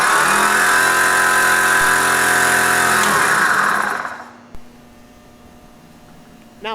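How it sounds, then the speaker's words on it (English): A WARN PowerPlant onboard air compressor mounted on a Jeep runs with a loud, steady mechanical whine and hum for a few seconds, then shuts off and winds down, leaving near quiet with a couple of faint clicks. "flip the knob to the compressor setting and turn it on"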